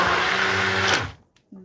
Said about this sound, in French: Allez, hop, je mixe.